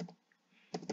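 Keystrokes on a computer keyboard while a spreadsheet formula is entered, a couple of quick clicks at the start, then a near-silent gap and a short burst of several fast, close taps at the end.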